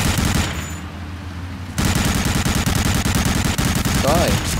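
Rapid automatic gunfire in the video game Medal of Honor Allied Assault, loud dense bursts of shots after a brief lull, with a voice speaking over the shooting.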